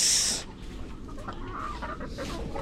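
Hens in a laying coop cluck in short bursts close by, after a brief loud rush at the start.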